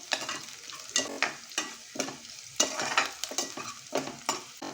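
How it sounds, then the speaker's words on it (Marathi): Onion frying and turning light brown in a pan for a kadhi-and-pulao meal, with a steady close sizzle punctuated by regular scraping stirs of a spoon. "हा बघा कांदा आपला हलकासा ब्राऊन झालेला आहे ट्रान्सपरंट झालेला आहे"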